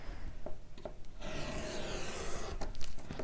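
Paper edge of a handmade Christmas mini album being sanded with a quick abrasive tool, a close, rasping rub that starts after a few light taps and runs steadily for about two seconds.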